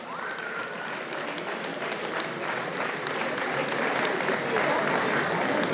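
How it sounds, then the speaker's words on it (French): Steady, dense applause from a crowd at a 10 km road race podium ceremony holds for the whole stretch and swells slightly near the end, with a voice talking over it. "Elle est là, Delphine, on peut l'applaudir plus fort que ça, hein?"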